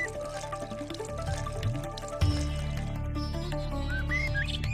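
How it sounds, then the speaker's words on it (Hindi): Cold water poured from an earthen clay pot, a steady splashing pour running under continuous background music with no talk. "फिर उसने एक घड़े से ठंडा पानी लिया और माता के शरीर पर डाला।"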